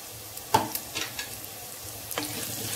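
Onions frying in a pan with a steady soft sizzle, as a spoon stirs and scrapes, a few distinct clinks against the pan.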